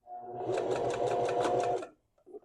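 A sewing machine stitching a fabric coaster, a close, rapid mechanical whir with a pulsing rhythm for almost two seconds before stopping, followed by a brief faint clatter.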